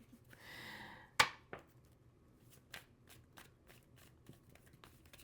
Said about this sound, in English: we'll finish the shuffle as we normally do